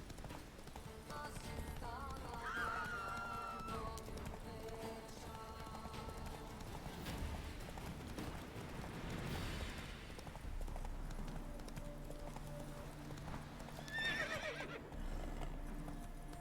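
Horse in The Witcher 3 galloping with steady clip-clop hoofbeats, whinnying twice over game music and ambience; a voice talks briefly.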